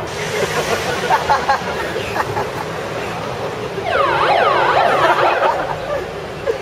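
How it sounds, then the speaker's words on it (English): A wailing siren sweeps up and down in pitch, rising clearly above a busy background of crowd noise and street bustle. "It's close to a police siren"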